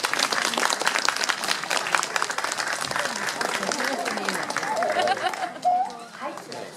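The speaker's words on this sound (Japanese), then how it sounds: "どうぞ拍手でお迎えください。" An outdoor crowd at a Japanese local festival applauds continuously, with scattered voices mixed into the clapping before the applause fades near the end.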